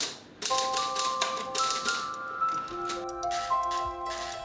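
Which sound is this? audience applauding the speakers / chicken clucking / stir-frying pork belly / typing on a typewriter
typing on a typewriter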